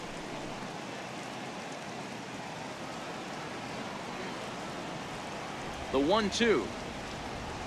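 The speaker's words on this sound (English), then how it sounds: "I don't know how much more rain this field can take." Steady rain hisses across a baseball field during a Rays at Red Sox game in MLB The Show 18. The soft, even wash runs throughout, and a commentator's voice briefly breaks in near the end.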